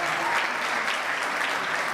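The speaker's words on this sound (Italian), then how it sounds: "Facciamo tanti forti applausi per il nostro Nino Marchi, che li merita" A live concert audience applauding steadily, a dense, even wash of clapping with no breaks, fairly close and alone.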